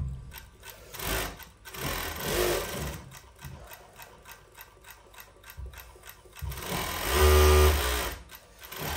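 Jack K5-D-01GB industrial cylinder arm coverstitch machine with top and bottom cover runs in rapid mechanical bursts, its needle stopping and restarting with whirring pulses and clicks, close and fairly quiet.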